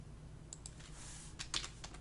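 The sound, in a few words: typing on a computer keyboard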